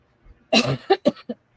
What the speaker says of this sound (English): I got a bit of a cough yet.